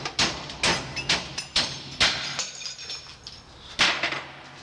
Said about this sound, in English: the right tool for the job is always a hammer